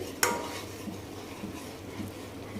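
A dum aloo gravy tadka being roasted and stirred in a pan, with a sharp metallic clink of a utensil on the pan near the start, then a steady low frying hiss and soft scraping throughout.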